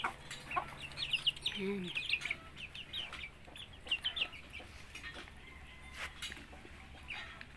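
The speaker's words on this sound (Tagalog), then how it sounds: "Tatlong Rhode Island na pinisa ng native." A native hen clucks beside three newly hatched Rhode Island chicks, with soft close clucks and rapid high peeping chirps scattered throughout amid light background rustle.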